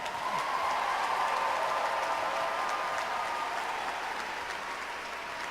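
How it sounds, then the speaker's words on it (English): An audience at a talk on economic equality bursts into sustained applause, a dense, even patter of many hands that holds steady and fades only slightly. "clap now, but get ready to organize later"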